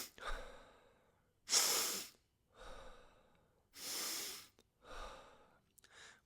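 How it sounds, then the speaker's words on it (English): Several big deep breaths drawn in and let out, close to the ear, heavy breathy bursts alternating with pauses, about five strong inhales and exhales over a few seconds with no talking. "trying to take 2 to 3 big deep breaths in through the nose and then let the breath fall out naturally."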